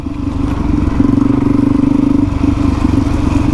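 A dual-sport motorcycle, a Suzuki DRZ400E or Yamaha Tenere 700, runs along a dirt track in the Gammon Ranges at Arkaroola, its engine droning loud and steady with a pulsing beat and road clatter underneath.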